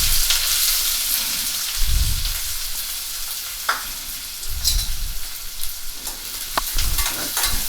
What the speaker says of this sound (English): we have taken a pan with 3 tablespoons of oil. Let's add finely chopped onions